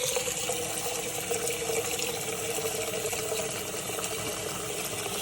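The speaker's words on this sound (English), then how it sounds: "So I'm going to add some water in here, up to about maybe half, a little less than half of this pot." Tap water pours steadily into a cooking pot in a home kitchen, a continuous loud rushing splash with no pauses and no voices.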